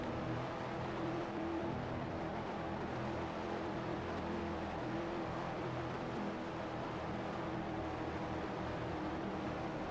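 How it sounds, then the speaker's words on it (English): A video game race car engine drones steadily at high revs for the whole stretch, a constant buzzing whine over broad roaring noise, with no talking. "That high-pitched RPM noise you hear is Pink's engine."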